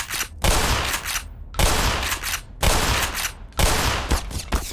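Loud gunfire in the game Black Mesa: four heavy, rapid bursts roughly a second apart, each a dense rattle of shots, with no talking.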